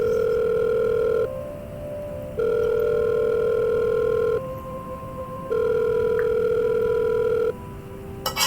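A telephone rings in the video game The Letter, three long electronic ring bursts separated by short pauses, steady and fairly loud over a faint background hum.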